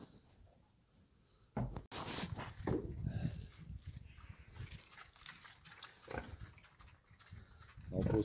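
Pigs grunt and squeal on a farm, close and loud in bursts, with goats and other livestock nearby and a person talking over them.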